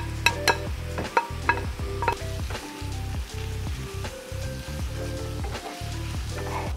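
Half-cooked dolma filling mixed with greens in a hot pan, a soft continuous sizzle broken by repeated spoon clinks and scrapes against the pan.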